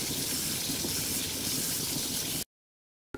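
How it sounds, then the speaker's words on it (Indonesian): Water poured to rinse boiled meat, heard as a loud, steady rush of running water that stops abruptly and briefly resumes at the very end. "Setelah 5 menit, buang air rebusan dan bersihkan lagi daging dengan air."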